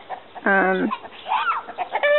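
Backyard hens make short, rough clucks and a higher squawk, close by and moderately loud. The calls come in a few uneven bursts with brief pauses between them.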